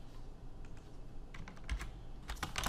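Typing on a computer keyboard while writing JavaScript code, a quiet scattering of key taps that cluster into quicker bursts toward the end, heard alone without speech.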